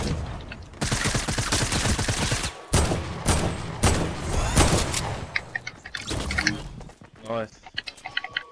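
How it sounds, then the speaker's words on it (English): Gunfire in a video game, with dense rapid bursts and single shots crackling almost continuously, loud and close, while players talk over the shooting. "Oh, he's shooting."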